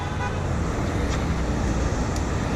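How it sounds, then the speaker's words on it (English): Car horns honk amid dense roadside traffic noise at a street protest, with short toots standing out over a constant loud wash of passing vehicles. "Nice, getting some honks."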